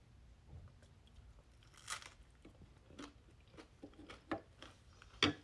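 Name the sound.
food crunching while being chewed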